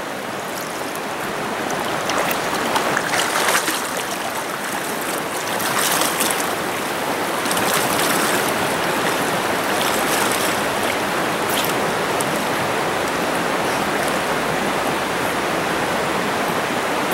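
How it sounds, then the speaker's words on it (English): Fast-flowing river water rushes through a fishing run on a freezing day, a loud, steady broadband roar with slight surges and no voices. "it's harder to do in faster water. I mean, it's pretty fast. It's flowing pretty good today"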